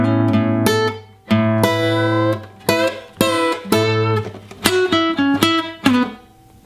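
Short, twangy electric guitar licks in the style of a particular guitarist on a song, a series of clipped, ringing phrases with quick bends, played close and clear with no voices.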